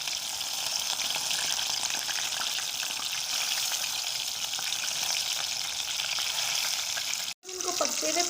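Beef and besan tikki fry in hot oil over a low flame, giving a steady, dense sizzle that holds evenly until a brief break near the end.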